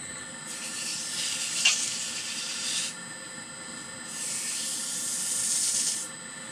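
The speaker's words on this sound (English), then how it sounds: "I like to be able to wet sand the inside of it" Wet sanding a burl and Maui Blue epoxy piece spinning on a wood lathe, working up through fine grits: two long, soft hissing passes of abrasive with a short quiet gap between them.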